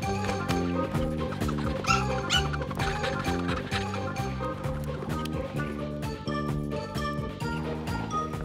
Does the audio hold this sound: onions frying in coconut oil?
no